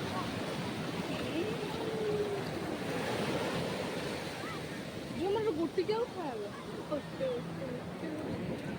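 Sea surf rolls steadily at Puri beach on the Odisha coast, a broad continuous wash with light wind buffeting, while voices and shouts rise over it in the second half.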